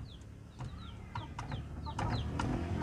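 Free-range chickens clucking and chirping nearby while feeding in a growing pen, short repeated calls scattered over a steady farmyard background murmur.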